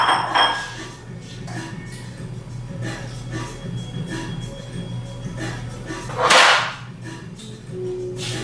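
Black bean and potato soup is ladled from a crock pot into a bowl, with scattered soft clinks and scrapes of the ladle on ceramic and one sharper clatter near the end, close by and without talk.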